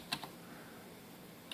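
A few faint, sparse keystrokes on a computer keyboard, two quick clicks close together and then a single one after a pause, in a quiet room with no talking.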